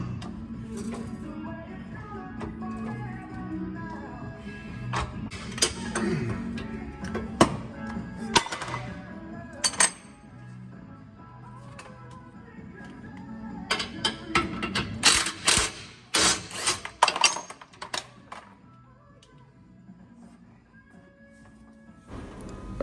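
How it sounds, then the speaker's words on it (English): Shocks and a retention strap are undone on a jacked-up A-arm, with irregular metallic clanks, taps and tool rattles close by, growing busier and sharper toward the middle of the work. "go and grab a jack and jack up the A-arm so that you can start to undo shocks, retention strap and get that spring out"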